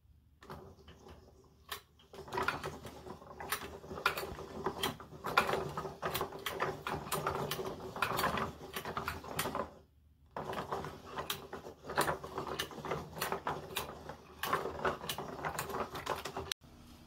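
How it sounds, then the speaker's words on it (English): A bare wood-on-wood planetary gear set runs with dense, irregular wooden clicking and ticking, close and fairly quiet, pausing twice briefly before starting again. "Now let's watch a video of this first planetary set in action."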